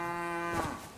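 A cow in the video game Kingdom Come: Deliverance II lets out a single clear, drawn-out moo, heard close and alone at a moderate level.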